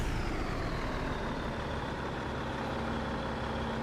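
A truck with a 6V92 Detroit Diesel engine runs steadily at a harvest in Hubbard, Nebraska, giving a constant loud low drone with a faint high whine above it and no breaks.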